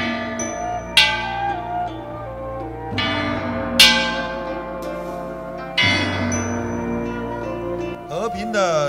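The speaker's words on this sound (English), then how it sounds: "The sound of the bell of world peace and love brings peaceful and comforting wishes" Bell of world peace rung at a solemn 9/11 memorial prayer ceremony, three clear resonant strikes roughly every three seconds, each ringing on with long harmonic decay, followed by a brief wavering tone at the end.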